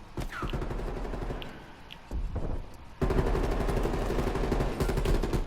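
Rapid automatic gunfire in Call of Duty Black Ops Cold War during a Domination match, dense bursts of rattling shots that pause briefly and then resume louder and more continuous.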